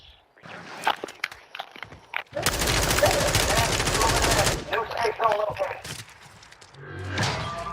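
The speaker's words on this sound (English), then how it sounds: "I sure hope they're shooting at each other." Gunfire from players in an online shooter game, with scattered single shots and footsteps at first, then a sustained loud burst of rapid automatic fire, followed by more scattered shots and steps, with a voice briefly heard near the end.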